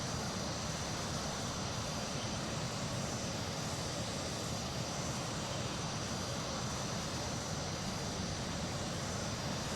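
A Panavia Tornado's jet engines in Microsoft Flight Simulator 2024 make a steady, dense roar that neither rises nor falls and holds at an even, moderate level throughout, with no speech.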